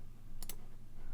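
A quick double mouse click, two crisp close clicks in rapid succession over faint room hum, in a quiet setting with no speech.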